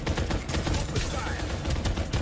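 Gunfire in the video game Farlight 84, heard as dense, continuous bursts of rapid shots that crackle without pause across the whole moment, loud and busy.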